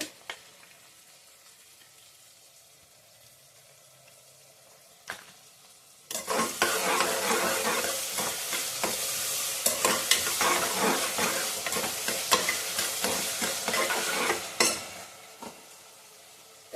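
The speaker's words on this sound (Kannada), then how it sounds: "ಈಗ ಒಂದು ಸ್ಪೂನ್ ಶುಂಠಿ ಬೆಳ್ಳುಳ್ಳಿ ಪೇಸ್ಟ್ ಹಾಕ್ಕೊತಾ ಇದ್ದೀನಿ" A spoonful of ginger-garlic paste hits a hot pan while cooking a pigeon-pea pulao, bursting into loud, crackling sizzle after a quiet start, with stirring scrapes, then fading out near the end.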